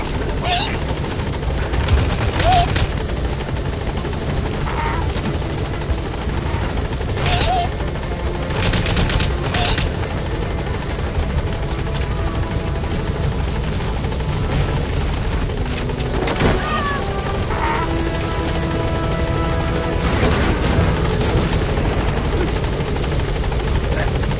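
A military helicopter in Metal Gear roars steadily with a loud, constant rotor wash while landing and lifting off, as bursts of gunfire and a radio voice break in over the engine noise.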